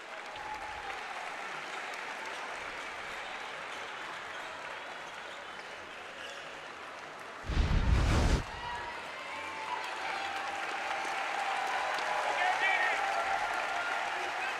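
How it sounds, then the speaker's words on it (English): A basketball crowd at a North Carolina State versus Davidson game applauds an injured player, steady clapping and cheering filling the arena under a commentator's voice, with a brief louder burst midway. "she got a great hand from the crowd"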